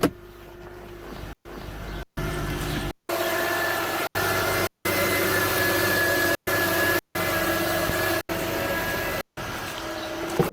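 A bus engine moans in a steady, droning tone with layered harmonics, held at an even level and broken by several brief dropouts. No voices are heard.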